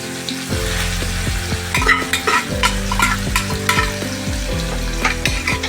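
Grated carrot halwa sizzles in a hot pan as a spoon stirs and scrapes it around, a loud, close, continuous frying hiss broken by repeated stirring strokes.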